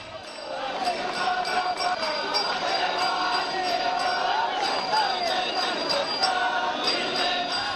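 A dense crowd of devotees fills the Nagnath temple fair at Vadval village, a loud continuous murmur of many voices with bright clinks and chimes ringing out repeatedly above the hubbub.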